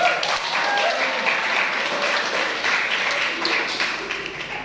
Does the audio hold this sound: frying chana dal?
no